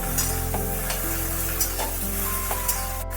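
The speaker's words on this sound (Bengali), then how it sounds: "খুব অল্প তেল দিয়েই ঢ্যাঁড়সগুলো একটু ভেজে নিচ্ছি" Okra sizzling in a small amount of oil in a pan, a steady low frying hiss broken by occasional stirring scrapes and clinks of a utensil against the pan.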